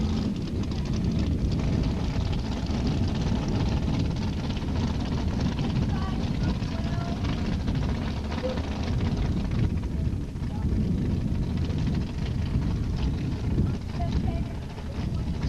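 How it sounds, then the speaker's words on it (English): A Fiat drag racing car does a burnout at Edinburg International Dragway in Texas in 1986, a loud, steady roar of engine and spinning tires that stays constant for the whole stretch, with an announcer talking over it. "Now up, the beautiful Fiat on pit side of Jerry Williams all the way down from Robstown, Texas. Getting a little squirrely on his burnout."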